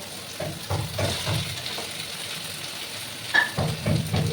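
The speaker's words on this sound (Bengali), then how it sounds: "একসঙ্গে কষিয়ে নেবো যত বেশি কষানো হবে বেড়ে যাবে" Jackfruit seeds and potatoes sautéing in a pan for a shrimp and jackfruit-seed curry, frying with a steady close sizzle broken by several soft scraping stirs of the spatula.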